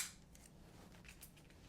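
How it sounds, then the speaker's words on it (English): Scissors snip away old growth on a houseplant during fall potting and cleanup, giving a few faint, quick snips close by with no talking. "Snip off this old inflow"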